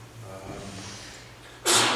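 A single sharp sneeze bursts out near the end, loud and close, after a stretch of quiet room tone and breathing at a council meeting.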